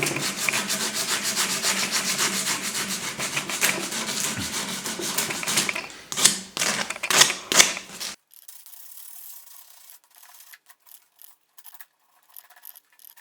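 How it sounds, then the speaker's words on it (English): Rapid, rhythmic rubbing and scraping of sandpaper on hardened epoxy putty in a garage, fairly close, then stopping into near silence with a few light scuffs. "so let's get to sanding"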